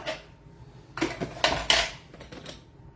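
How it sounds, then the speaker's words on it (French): Beaten egg whites are folded into cake batter for an upside-down tart, with soft scraping and clinking of a utensil against the bowl in short, uneven bursts and no talking. "Ensuite, je vais venir donc mélanger mes blancs en neige."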